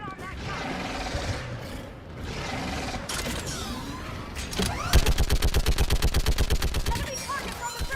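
A mounted gun fires in Mass Effect 3, a rapid, loud, evenly spaced burst of shots following scattered combat noise and voices.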